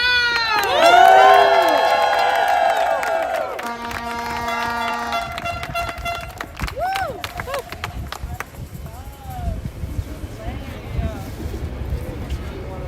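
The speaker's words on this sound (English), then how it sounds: "Please start clapping for Rachel." Crowd at a strike rally of Starbucks baristas cheers and claps after an organizer is introduced, loud at first and then easing into scattered whoops and voices.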